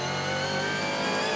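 A Mazda 3-bodied V8 race car from Mark Cars Australia revs hard during qualifying for the Hankook 24H at Circuit Paul Ricard, giving a loud, continuous engine note with steady harmonic whine.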